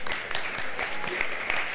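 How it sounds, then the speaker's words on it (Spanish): An audience at a talk on Panamanian museums gives a round of applause, with brisk, even clapping from many hands that stays close and fairly loud throughout. "Lo recibimos con un fuerte aplauso, por favor."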